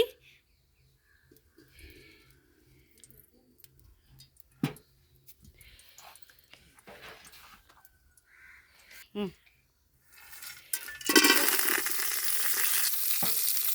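Spices hit hot oil and ghee in a pot over a wood fire. Mostly quiet with scattered knocks, faint bird calls and a voice, then a loud sizzling burst erupts near the end and continues.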